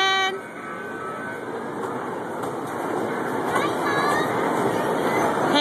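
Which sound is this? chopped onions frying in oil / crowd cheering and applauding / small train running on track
small train running on track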